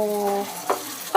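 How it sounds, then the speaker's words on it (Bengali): Food fries in a pan, sticking to the bottom, giving a brief sizzle with short scraping stir strokes close by. "দেখো ফ্রাই করছি, নিচে লেগে যাচ্ছে রে মা।"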